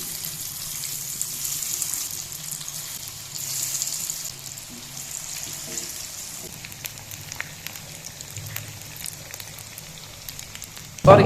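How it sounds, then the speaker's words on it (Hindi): Potato chips coated in gram flour fry in ghee in a pot on a stove, giving a steady, soft sizzling hiss throughout with a few faint clatters and a sharper knock at the very end. "अभी इसमें घी डाल के चिप्स की तलाई जो है वो शुरू करते हैं।"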